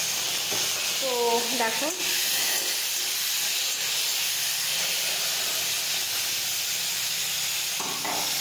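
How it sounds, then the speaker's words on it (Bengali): Mustard seeds sizzling in hot oil, a steady bright hiss with some popping, fairly close, with a brief spoken remark early on. "তেলের মধ্যে দিয়ে দিচ্ছি সর্ষে ফোড়ন"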